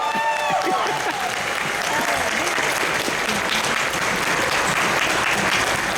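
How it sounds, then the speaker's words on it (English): An audience at a fan convention's closing ceremony applauds loudly and steadily for the con chairs, dense clapping with crowd cheers and a few voices on top throughout. "Let's give them a round of applause again."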